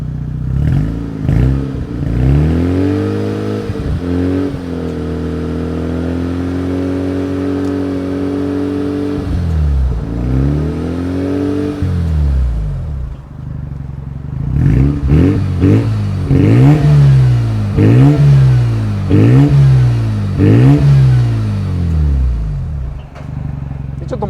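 A Mazda RX-7 FD3S rotary engine idles through its muffler, then is blipped repeatedly, with one long held rev midway and a quick rhythmic series of rising and falling revs later, loud and close.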